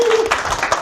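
Audience clapping to welcome a speaker at a lecture event, a brief burst of scattered claps filling the room, fairly loud and close, lasting under a second.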